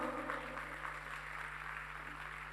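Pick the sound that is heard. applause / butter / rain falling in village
applause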